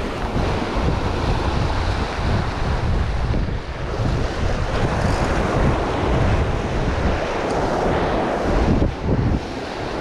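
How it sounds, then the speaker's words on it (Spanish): Strong wind from the south blows across the coast, loud and buffeting against the microphone, with rough surf churning steadily behind it. "Está el viento golpeándonos de sur, tirando un poquito para levante, un poquito de costado."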